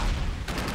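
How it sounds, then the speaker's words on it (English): A car exploding in the video game Uncharted 2: Among Thieves, heard as a short, loud, booming burst followed by a crackling blast tail, with no talking. "got the secondary explosion off the car."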